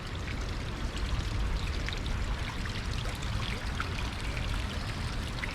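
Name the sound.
polluted water pouring over creek bank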